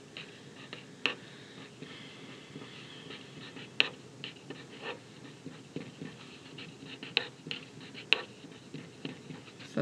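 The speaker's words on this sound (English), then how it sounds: "so I need to draw 3 cubes" A pen drawing cubes on paper, with soft continuous scratching strokes and occasional light taps, close and quiet, with no voices.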